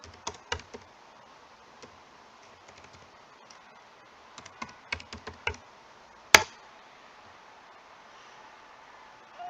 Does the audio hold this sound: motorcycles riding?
no